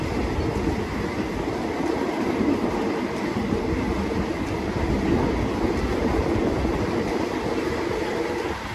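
Thai rapid train no. 135, running from Bangkok Aphiwat to Ubon Ratchathani, passes near Klang Dong station by a high-speed rail construction site, a steady loud rumble and wheel roar filling the whole stretch without letup.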